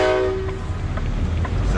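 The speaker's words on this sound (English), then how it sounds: "Sound like a fucking train or something coming through." A train rolls through near Munfordville, Kentucky, opening with a brief loud horn blast that gives way to a heavy, steady rumble of passing cars, with no speech.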